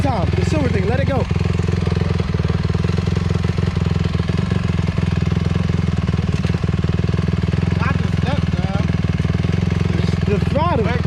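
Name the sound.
250 dirt bike engine revving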